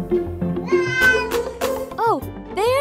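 A cat meows in a children's show, the calls rising and falling in several drawn-out bursts over a cheerful musical backing, with a bright voice speaking around it.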